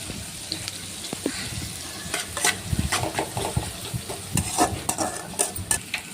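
Onions fry in oil in a pan for leftover-rice egg fried rice, a steady sizzle with scraping stirs and clinks from a spatula, close and alone.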